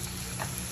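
A seafood sauce with lemon and pepper, made for crayfish, shrimp or crab, bubbles in the pan with a steady, close sizzling hiss that keeps an even level for the whole brief stretch, with no voices.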